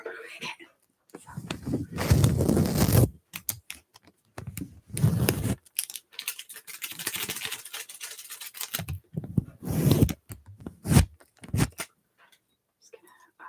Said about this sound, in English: Specifically taping it to the microphone and removing it.